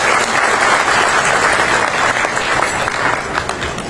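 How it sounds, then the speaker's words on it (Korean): At a gathering of Filipino-Korean expatriates with President Lee Jae-myung, the audience gives two speakers a big round of applause, a loud, dense, sustained clapping that fills the whole stretch. "소중한 말씀을 나눠주신 두 분께 큰 박수 부탁드립니다"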